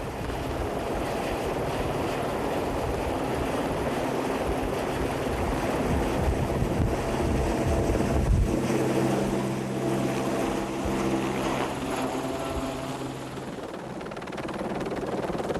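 Helicopter hovering over a ship's flight deck while a load is prepared: a loud, continuous rotor and engine roar with a low throbbing beat, steady and close throughout.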